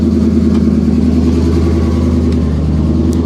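Close, steady engine rumble from a car with a missing exhaust system, a throaty, pulsing low tone holding at an even level throughout.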